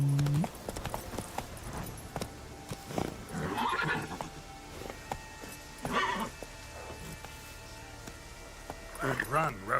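Roach, the horse in The Witcher 3, galloping with quick hoof clip-clops and a whinny, fairly faint under game sounds and someone talking.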